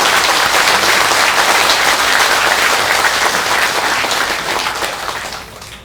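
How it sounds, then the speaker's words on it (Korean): An assembly at a Buddhist temple's New Year night-long practice session bursts into loud, sustained applause from many people, filling the space before gradually fading at the end. "우리 종교 평화 협의회도 잘 되라고 박수하고."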